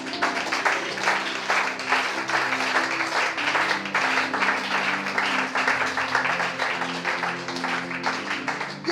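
A congregation at a church service claps in sustained, dense applause acclaiming Jesus, loud and continuous, with voices blending into it.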